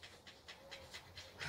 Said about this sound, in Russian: Собаки хекают.